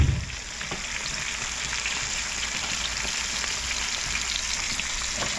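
Largemouth bass seasoned with adobo sizzles and fries steadily in a pan, a continuous close crackle with small pops and no talking.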